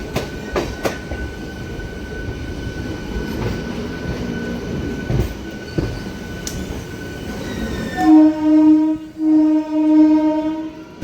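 A Singareni MEMU train runs in Telangana with a steady rumble of wheels and carriage, then sounds several loud, close horn blasts near the end.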